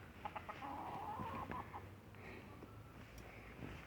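Faint rooster clucks and short calls in a noisy outdoor setting, scattered over steady background rumble.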